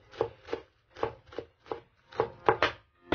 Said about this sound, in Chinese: 之后把小葱切成葱花